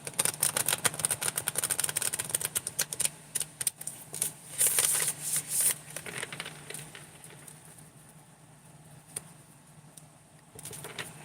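Tarot cards shuffled near the microphone, a dense patter of riffling and flicking that thins out into a few scattered taps over a steady low hum.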